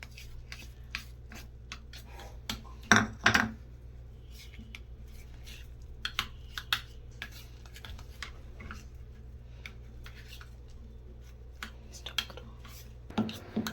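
A spoon scrapes and taps against a bowl while mehndi paste is mixed with maida flour, giving intermittent close clinks and rubbing strokes against a quiet background.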